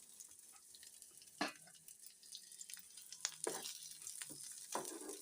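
Dried red chilies frying in oil in a pan for a garlic chili chutney give a soft crackling sizzle, broken by several sharp pops and scraping stirs. It stays close and moderately quiet, with no talk.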